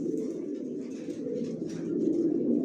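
Johnson-line long-distance racing homing pigeons coo in a loft, a low, continuous throaty burble from several nearby birds with faint chirps above it.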